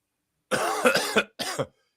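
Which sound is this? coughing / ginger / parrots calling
coughing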